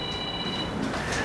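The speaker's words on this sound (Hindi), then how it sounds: "अब थोड़ा वो फोन को शांत करिए" A mobile phone rings during a spiritual talk in a hall, with a steady electronic tone going on through the brief moment and no talking.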